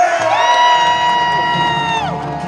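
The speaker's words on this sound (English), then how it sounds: "A round of applause for Keelan, ladies and gentlemen." A crowd at a rib-eating contest cheers and whoops loudly and close by, with one drawn-out shout ringing over the steady noise.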